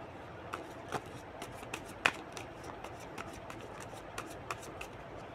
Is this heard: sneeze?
no